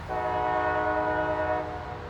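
A CSX freight train horn blares in one sustained chord, loud and close, over the low rumble of the passing train in snow.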